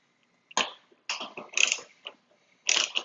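A ratchet wrench cranks out the last fender bolt on a Honda CR-V in several short, close bursts of rapid clicking separated by brief pauses.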